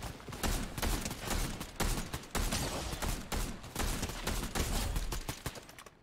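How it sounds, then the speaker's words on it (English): Repeated gunshots in Fortnite, a loose irregular volley of sharp cracks over about six seconds, fairly quiet and at some distance behind the player. "Oh, shots. Behind us."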